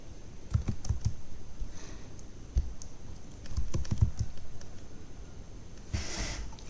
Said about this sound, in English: Just press P on your keyboard and you can just write here gas